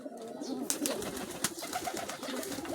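Pigeons, including blue Sirazi and Peshawari breeds, coo softly throughout, several birds murmuring together as a low continuous warble with a few brief sharper sounds on top.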